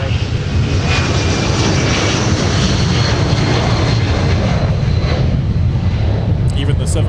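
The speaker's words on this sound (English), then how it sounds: "Even the 757s that get off the ground pretty quick, like the little rocket ships they are, rolling long down the runway today" Boeing 757 jet taking off down the runway at Minneapolis–Saint Paul airport, a loud, broad engine roar sustained throughout, with no break in the noise.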